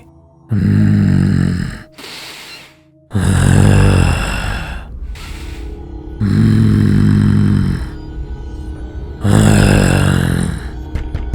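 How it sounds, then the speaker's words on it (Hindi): Heavy, loud breathing in long ragged bursts, each drawn-out rasp separated by short pauses, close and harsh like labored snoring gasps. "वो सांसों की आवाज अब और तेज होने लगी"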